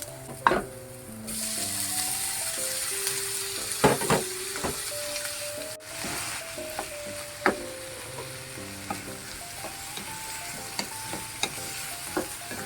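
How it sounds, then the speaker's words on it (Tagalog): Chicken gizzard and liver fry with garlic and ginger in a pan for bopis, a steady sizzle broken by repeated clanks and scrapes of a spoon stirring, with a faint tonal ringing running underneath. "lagay na natin yung balon-balunan at atay"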